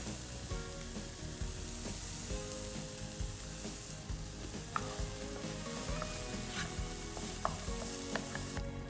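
A mixture of green peas with red and yellow peppers sizzles gently in a pan while being stirred, giving a continuous soft frying hiss with occasional light scrapes and taps.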